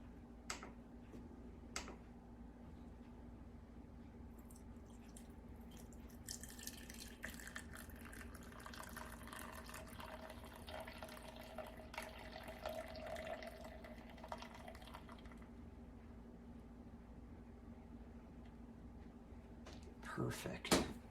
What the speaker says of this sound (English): Now we need to add our aloe juice to turn this into a gel.